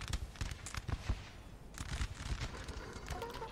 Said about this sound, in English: The guns now can start firing again.